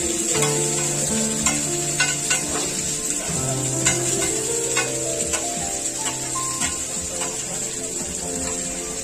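Roti fries in a pan at a street food stall, giving a steady sizzle broken by occasional scrapes and clicks, with sustained background tones running underneath.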